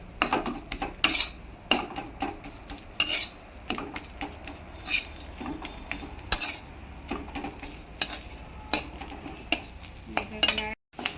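Rohu fish bharta being stirred in a pan with a spatula, a faint sizzle under irregular scraping strokes and sharp knocks against the metal, close by and continuing for several seconds, with no one speaking.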